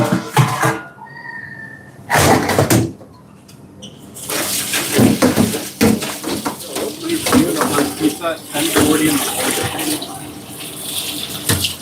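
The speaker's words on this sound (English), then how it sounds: "let me get my strainer so we can strain these out and get them nicely washed" In a work kitchen, water runs from a tap over food being washed in a strainer, splashing and hissing with clinks of dishes, while people talk nearby between bursts of flow.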